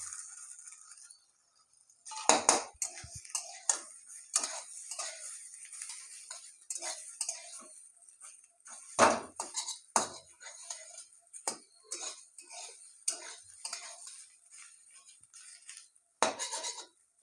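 Metal spatula clinking and scraping against a pan while fried potato, eggplant and neem leaves are stirred together, irregular close knocks and rattles with brief pauses between strokes.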